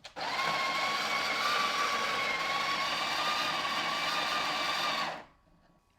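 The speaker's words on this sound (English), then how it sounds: "You're gonna place your portafilter under the grinder" A Breville Barista Express grinder grinds a lighter roast of espresso beans into a portafilter at grind setting 8, giving a steady, loud, high whirring for about five seconds before it cuts off.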